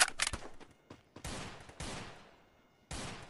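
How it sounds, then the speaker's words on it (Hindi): Gunfire in the mobile battle game Free Fire during a clash squad match: a rapid burst of close shots, then a single loud report and two longer sustained blasts of automatic fire separated by brief quiet gaps. "अपनी गोलियां मार रहा हूँ।"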